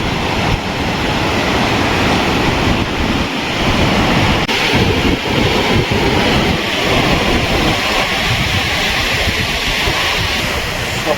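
Sea waves at a beach resort in Mandarmani, crashing and washing in a constant loud roar close by, with wind buffeting the microphone throughout and no voices.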